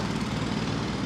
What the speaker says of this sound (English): The dulcet tones of the jackhammer